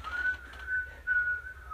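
A person whistles while breathing in or out, producing a faint, breathy, wavering tone in short bursts. The whistle sits over a quiet room background, with no speech.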